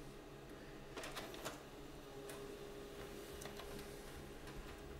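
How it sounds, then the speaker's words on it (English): HP LaserJet M110we laser printer running a print job, giving a faint, steady mechanical hum broken by a few sharp clicks and ticks from the paper feed, heard alone at a distance. "And the printer has printed the page we just asked."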